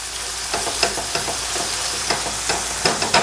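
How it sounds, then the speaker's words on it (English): Browned stuffed-pepper filling frying in olive oil and butter in a pan, a loud steady sizzle with repeated scraping stirs of a spoon close by, no talk. "Let's give this a stir too."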